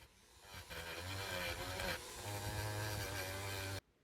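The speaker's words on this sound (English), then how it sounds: "Here I'm removing the oxidation off an old penny, which is removed really quickly with this attachment." A Dremel rotary tool with a wire brush attachment scrubs oxidation off an old copper penny, giving a steady high-pitched motor whine with gritty scraping that shifts as the brush presses against the coin.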